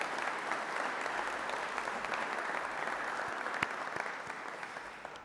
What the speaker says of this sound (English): I'd ask for a round of applause to recognize all that they have done.